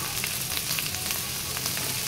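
Spiced mixture with cumin and coriander powder, lemon juice and salt frying in a pan, a constant close hiss and sizzle with faint stirring ticks and no talk.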